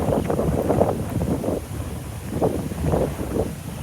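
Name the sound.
strong wind blowing into microphone outdoors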